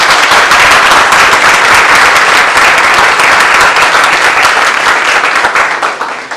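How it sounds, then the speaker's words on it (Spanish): A live audience applauds loudly and steadily at a constitutional-process forum in Jalisco, dense clapping sustained throughout and tapering slightly at the end. "Un fuerte aplauso, por favor."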